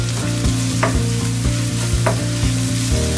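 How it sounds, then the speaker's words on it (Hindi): Black pepper powder and dry mango powder roast in a hot pan with an egg dish in progress, a steady close sizzle broken by regular scraping stirs of a utensil, with no talking. "अब हम इसमें डालेंगे काली मिर्च पाउडर, ड्राई मैंगो पाउडर, इन्हें भी हम 1 मिनट तक भूनेंगे"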